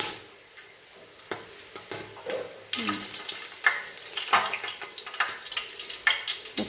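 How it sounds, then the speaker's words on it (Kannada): Whole cinnamon, cloves and cardamom dropped into hot oil for chicken biryani set off a sudden loud sizzle after a few quieter clinks, then a sustained crackling fry with spitting bursts. "ಚಕ್ಕೆ, ಲವಂಗ, ಏಲಕ್ಕಿ ಹಾಕ್ತಿದ್ದೀನಿ. ಎಣ್ಣೆಯಲ್ಲಿ ಚೆನ್ನಾಗಿ ಫ್ರೈ ಆಗಬೇಕು."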